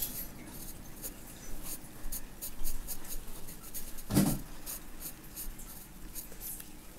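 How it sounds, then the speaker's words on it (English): Pencil strokes scratch across paper in a series of short, soft rubbing lines with irregular rhythm, close and quiet, with one brief louder knock midway. "We're gonna draw some more lines."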